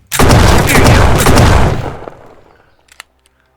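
Loud burst of automatic gunfire from special-forces enemies in the video game Animallica, a dense rapid volley lasting nearly two seconds, then tailing off into a few faint clicks and a last sharp shot.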